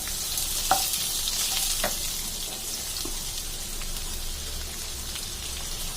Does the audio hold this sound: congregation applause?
no